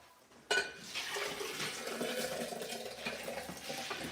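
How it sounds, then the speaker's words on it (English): Washed millet and water are poured into a blender: a sudden splash, then a sustained gurgling pour with no talk. "so I'm going to pour all this into the blender."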